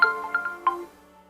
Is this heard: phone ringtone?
yes